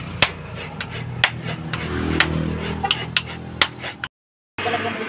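Jackfruit is scraped by hand for cooking, giving a steady rasping texture broken by sharp knocks and taps at an uneven pace, close and fairly clear, with a short gap near the end.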